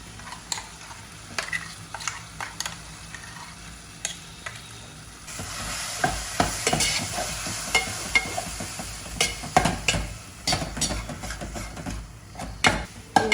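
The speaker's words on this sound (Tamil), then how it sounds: "இந்த விழுதை இதில் சேர்த்து நம்ம மறுபடியும் கொஞ்சம் வதக்கணும்" Chettinad masala paste sizzles in a pan for chicken curry, a faint frying hiss that thickens midway as the paste goes in, with repeated scraping clicks from a stirring spoon, close and steady.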